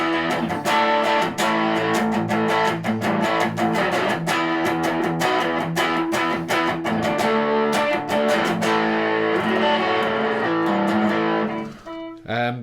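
An electric guitar on its neck humbucker pickup plays a warm, full-bodied run of chords and single notes, steady and loud, before ringing out and fading at the end.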